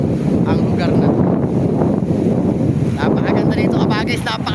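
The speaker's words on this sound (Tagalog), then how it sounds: "napakalakas ang hangin" Strong seaside wind at Mariveles, Bataan buffets the microphone in loud, continuous gusts, with surf faintly underneath and a person talking over it.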